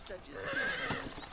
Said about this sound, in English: I'm fucking riding a horse I stole off a fucking Mexican bandit